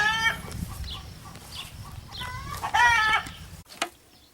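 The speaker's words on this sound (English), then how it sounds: "These are all Keats. They're baby guineas. They all hatched between yesterday and today." Baby guinea fowl keets, hatched within the past day, chirping in short high peeping bursts from close by, with a soft background hum and brief pauses.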